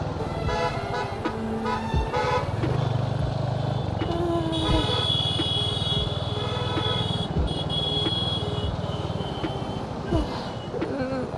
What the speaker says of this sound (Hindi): इतना ट्रैफिक क्यों है.